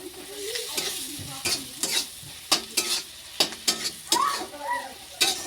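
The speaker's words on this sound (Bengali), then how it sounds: "তো দেখো আমি চচ্চড়ি করছি।" Fish chorchori fries in a pan with ground onion, cumin and chili paste, crackling steadily while a spoon scrapes and knocks against the pan in repeated stirring strokes.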